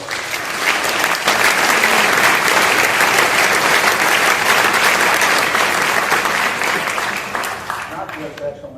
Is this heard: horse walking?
no